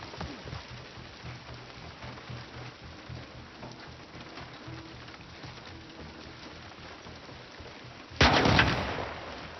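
A single loud sniper rifle shot in The Last of Us Part II cracks out near the end, after a long stretch of steady rain-like ambience with no voices.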